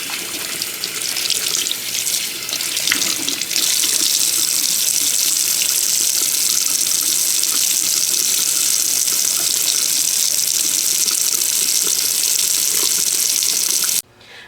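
Cold tap water runs steadily over a wig being washed in a sink, a constant hissing splash that cuts off abruptly at the end.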